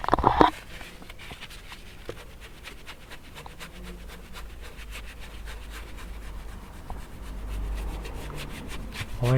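A microfibre cloth with all-purpose cleaner rubs over a car's surface, a steady close scrubbing swish with faint repeated strokes after a brief louder knock at the start.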